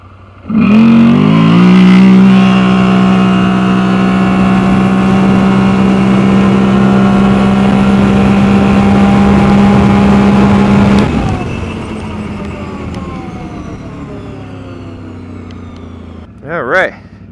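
A Can-Am Outlander/Renegade ATV fitted with a CVTech primary clutch revs up hard and holds a loud, steady engine drone for about ten seconds before easing off and fading.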